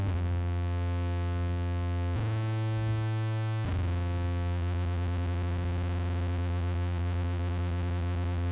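Behringer JT4000 Micro synthesizer with its filter lowered: a loud, sustained buzzy tone rich in harmonics that shifts pitch twice, then wobbles into a pulsing, modulated drone.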